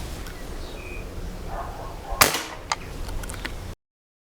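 A bolt-action air rifle fires a single pellet, one sharp close crack standing out from a quiet room, followed by a short fading ring and a couple of faint clicks.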